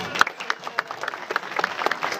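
Audience applause at a bird show at Le PAL park, scattered and moderately loud, a crowd clapping unevenly for a couple of seconds with no one speaking.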